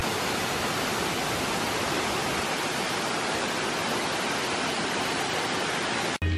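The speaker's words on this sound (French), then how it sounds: "Il arrive une cascade, elle est magnifique." A tall waterfall on Ilha Grande, Brazil, pours in a steady, dense roar of rushing water heard up close. It runs unbroken and loud for the whole stretch, with no voices.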